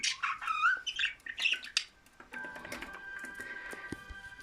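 Pet birds chirp and squawk indoors in quick bright bursts for about two seconds, followed by a softer steady mechanical tone with faint chirps.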